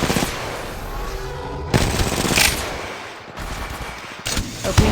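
Gunfire in Apex Legends, loud bursts of rapid automatic shots in several separate volleys with short pauses between them, close and harsh.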